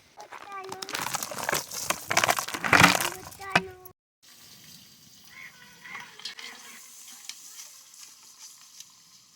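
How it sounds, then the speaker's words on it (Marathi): Spices temper in hot oil over a wood-fired stove, giving a bright crackling sizzle for the first few seconds alongside a person speaking, then a quieter open-air stretch with faint background sounds. "मंडळी आम्ही इकडं फोडणी घातलेली आहे"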